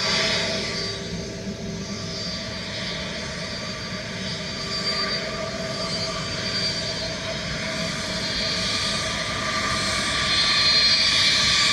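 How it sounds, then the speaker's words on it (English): An American Airlines Boeing 777 lands at Dublin Airport, its engines giving a steady, loud broadband roar that swells slightly toward the end. "We have our American 777 from Charlotte next."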